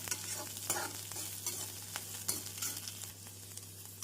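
Onions sautéing in a pan for beans and carrot poriyal, a soft, fairly quiet sizzle broken by repeated scraping stirs, over a low steady hum.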